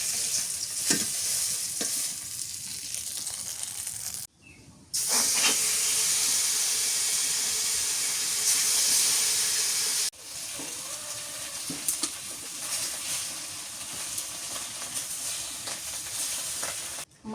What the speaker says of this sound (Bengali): মাছগুলো সব ভাজা হয়ে গেছে